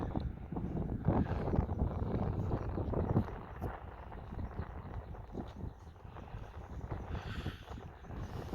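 Wind buffets a microphone outdoors in port at Akureyri, a dense, rumbling roar that surges strongly for the first few seconds and then eases to a steadier, softer rush.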